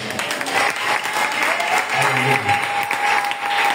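A church congregation bursts into loud, sustained applause that fills the room with dense, continuous clapping and no break.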